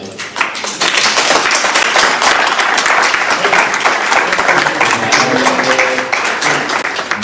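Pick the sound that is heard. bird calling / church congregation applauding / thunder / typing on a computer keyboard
church congregation applauding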